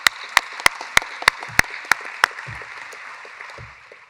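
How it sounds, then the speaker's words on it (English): An audience applauds performing kids at an evening speaker-series event: a steady wash of clapping with one loud, sharp clapper snapping out a regular beat on top, all gradually thinning and fading toward the end. "One more round of applause."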